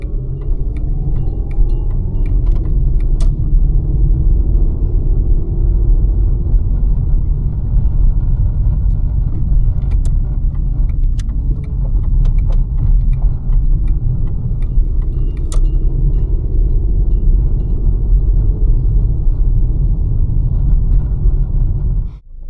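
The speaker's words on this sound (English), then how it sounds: "I am starting to hear a lot more of the rattles, kind of back there." Inside a 1999 Volkswagen Golf on the move, a steady low road and engine rumble fills the cabin, with small clicks and rattles from the rear and dash scattered on top throughout. No one speaks.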